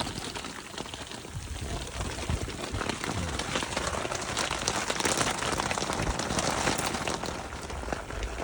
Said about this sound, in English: Rain has finally arrived.